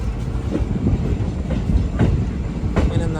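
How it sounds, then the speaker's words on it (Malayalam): A Nagaland Express sleeper-class train, just pulled out of Dimapur station, rumbles along heard from inside the coach. A low, steady drone is broken by a rhythmic clatter of wheels over rail joints, with no talking. "10:30 ദീമാപൂർ റെയിൽവേ സ്റ്റേഷനിലാണ് ട്രെയിൻ എടുത്തിരിക്കുകയാണ്"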